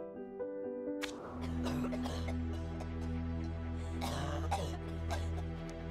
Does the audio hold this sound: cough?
yes